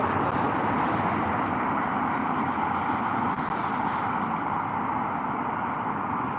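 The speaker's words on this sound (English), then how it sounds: "That's the airplane," Airplane flying over San Diego near Hillcrest, heard as a steady, broad roar from a distance, continuous and unbroken, with no talking.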